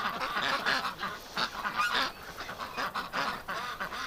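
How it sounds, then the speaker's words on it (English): Ducks in their pen on a winter morning, wet after a night outdoors, give repeated loud honking quacks in irregular bursts close by, with no talking. "Wet ducks though, they were out all night partying."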